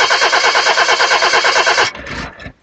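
A car engine cranks over and over in a fast, even rhythm for about two seconds without catching, then the starter stutters in a few weaker, ragged bursts before cutting out. Loud and close, with no talking.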